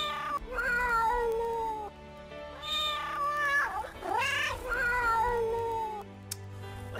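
A cat meows repeatedly in long, drawn-out, tonal calls, some rising into caterwaul-like wails, fairly close and loud with brief pauses between them.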